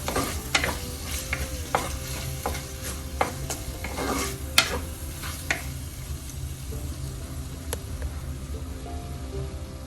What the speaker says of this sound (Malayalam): എല്ലാം കൂടെ നന്നായി വഴറ്റുക.